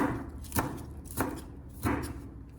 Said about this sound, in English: place the parsley on a cutting board and cut it into pieces about 1 to 2 centimeters long